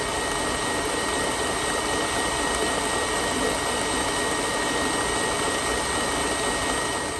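An electric mixer whips chocolate cake batter until fluffy, a loud, steady, high-pitched motor whir with a rushing, airy noise that holds unchanged throughout.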